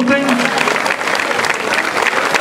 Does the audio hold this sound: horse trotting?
no